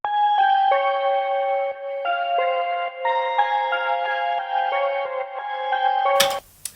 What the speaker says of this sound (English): Which is kind of like a piano, but with like still like this bell quality stuff.